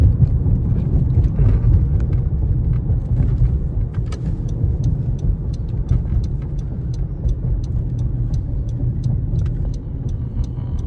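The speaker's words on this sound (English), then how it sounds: "So just taking you for a ride in St. Paul." A car driving through downtown St. Paul, a steady low road and engine rumble heard from inside the cabin, with faint regular ticking on top, continuous and without talk.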